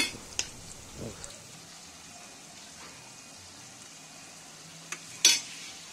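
Vegetable curry sizzles quietly in a pan with ginger, garlic and spices. A few spoon scrapes and clinks rise above the low hiss, with one louder stir near the end.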